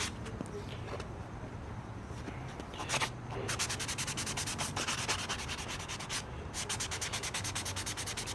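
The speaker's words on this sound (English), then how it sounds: "When you use a sanding block like this, don't push down really hard in the block." A sanding block rubs over primer on a small DIY display stand for a 6-inch action figure, giving a quiet, steady scratchy hiss of back-and-forth strokes with brief pauses between passes.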